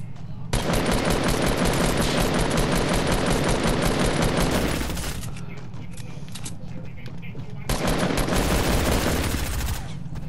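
Sustained automatic SMG fire in Fortnite rattles loudly and continuously, breaking briefly into a softer lull before another long close-range burst resumes.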